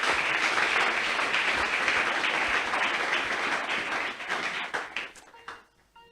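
A church congregation breaks into sustained applause, dense and loud clapping that fills the room before tapering off and fading out near the end.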